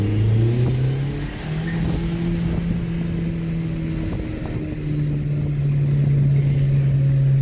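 A car fitted with a Forge 007 diverter valve pulls hard in second gear on a shady road, its engine droning steadily upward over constant wind rush, loud and close throughout.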